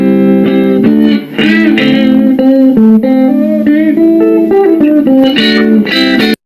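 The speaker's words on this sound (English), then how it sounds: "Here is the sound of a regular guitar." Regular electric guitar with no distortion effect, a clean, close melodic line of plucked notes and short chords moving steadily, loud and alone before stopping abruptly.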